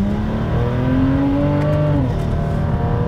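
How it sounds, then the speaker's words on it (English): Inline-six turbocharged engine of a built 2011 BMW 335is revving steadily, harmonic tones sweeping upward then dropping, heard close and continuous for about three seconds with no talking. "exterior sounds like an inline 6 turbo car"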